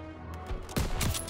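Burst of gunfire in the WWII shooter game Call of Duty: WWII during a church level, loud sharp shots packed into the last half second after a quieter lead-in.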